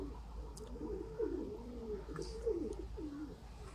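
A Rampuri pigeon coos softly in repeated low, rolling phrases, fairly close, over a quiet background hum.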